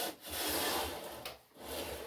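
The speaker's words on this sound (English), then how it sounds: "I take my sander, I put a chamfer on this end right here, I sand the end of the piece" Steady abrasive rasping of a sander working the chamfered end of a wooden shaving horse piece, close and continuous with brief dips in pressure, no voices.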